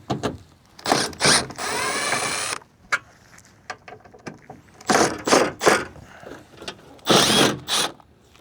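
Power driver backing T30 Torx screws with light threadlocker out of a Chevy Silverado rear door, heard as short close whirring bursts with one longer steady run, separated by small clicks and handling noises.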